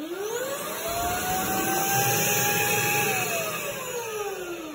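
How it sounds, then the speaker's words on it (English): A Brigii M1 handheld vacuum runs steadily while deflating a beach ball, giving a loud continuous whine whose pitch climbs, holds, then drops slightly near the end, with no talking. "just attach it like that and then turn on the vacuum."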